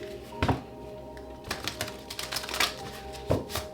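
Tarot cards are shuffled in a quiet room: a few crisp riffling bursts and soft taps, close and fairly faint, with short pauses between, and no voices.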